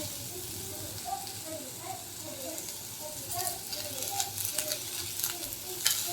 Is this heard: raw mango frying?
yes